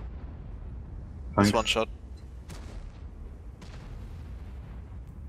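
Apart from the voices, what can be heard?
airstrike explosions in World of Tanks video game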